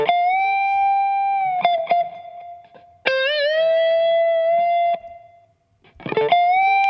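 An electric guitar solo plays through a compressor plugin with reverb brought up, as long sustained, singing bent notes with short gaps between phrases and no voices.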